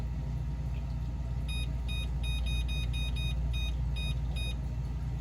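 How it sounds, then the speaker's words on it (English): A kitchen timer is set by button presses, a run of about a dozen short, high, evenly spaced beeps over a steady low hum in a home kitchen. "I'm gonna set my timer."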